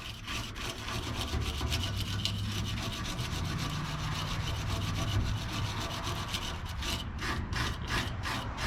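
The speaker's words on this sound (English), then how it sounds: "Tell you to sand your pipes before you put your fittings on and do any of your brazing." Sandpaper works steadily over an aluminum pipe being cleaned for brazing, a continuous close rasping scrub throughout that turns into short back-and-forth strokes near the end, with no voices.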